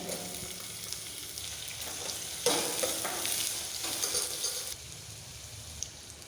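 Steady sizzling of onions sautéing in a pan, with stirring scrapes rising midway, close and continuous, no voices.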